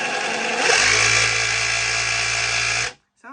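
An old 12V SDS drill with an on-off trigger runs at full speed, a steady loud motor whine holding for about two seconds before cutting off abruptly, close up with no talking.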